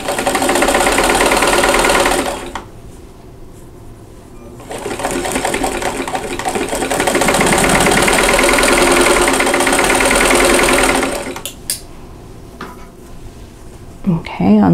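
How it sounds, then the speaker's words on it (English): Sewing machine stitching a seam on a quilt block, a loud steady motor whir running in two long bursts with a short pause between and a quieter stop near the end, no talking. "and then sew the seam."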